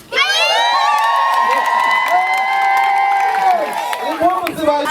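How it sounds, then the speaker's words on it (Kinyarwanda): A crowd of Glory Academy schoolchildren visiting a cultural heritage house ululate in a loud, sustained, trilling chorus mixed with cheering, close by, breaking into scattered shouts at the end. "Nimuvuze impundu twumve."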